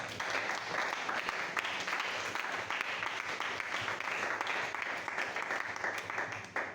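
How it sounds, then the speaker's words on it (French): Congregation applauding and acclaiming the Lord at a revival prayer gathering, a steady dense wall of clapping and cheering that fills the room at even loudness throughout, with no pause. "Est-ce qu'on peut acclamer le Seigneur?"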